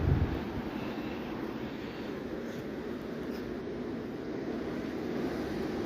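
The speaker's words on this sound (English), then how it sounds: "proper windy day on Easter Sunday." Steady wind rushes and buffets the microphone in a constant low roar outdoors beside a 1966 Nuffield 10/42 tractor, with no voices and no breaks.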